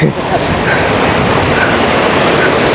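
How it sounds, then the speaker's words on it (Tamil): A waterfall sends fine spray down in front of the viewer, making a loud, steady broadband rush with a windy roar throughout, close and constant. "முன்னுக்கு அப்படியே நீர்வீழ்ச்சி அங்கேருந்து அப்படியே தண்ணி வந்துட்டு மெல்லிஸாக அப்படியே ஸ்ப்ரே மாதிரி அடிக்குது"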